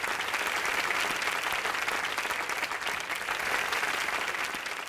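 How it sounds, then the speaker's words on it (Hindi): A studio audience at a live Indian comedy show claps in steady, dense applause that stays loud and even throughout, with no voices. "तालियां।"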